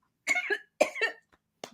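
Two close, dry coughs in quick succession, each a double burst, followed after a pause by a brief throat-clearing sound, heard alone in a quiet room.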